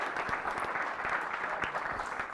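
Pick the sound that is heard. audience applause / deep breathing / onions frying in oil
audience applause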